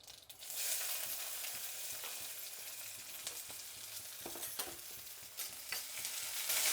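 Chopped onion frying in hot oil with mustard seeds for a ridge gourd curry, giving a steady close sizzle with occasional crackles and stirring, no voices.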